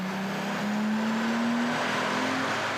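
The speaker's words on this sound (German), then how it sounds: "Bruce schmeißt die Maschine an und der HGP lässt Leistung folgen" A tuned HGP Golf 6 of roughly 730 horsepower runs hard on a dynamometer with a loud, sustained engine drone whose pitch climbs slowly as it pulls, close and continuous throughout.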